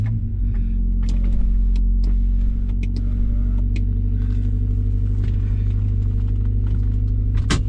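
A Ford Escort Cosworth engine, run for the first time after ten years sitting, holds a steady, deep, close idle rumble that stays constant throughout, with faint mechanical clicks on top and no talking.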